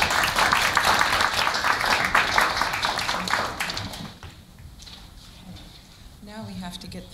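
Audience applause greets a professor at a Korea University lecture, a few seconds of dense clapping that thins out, followed by a voice speaking.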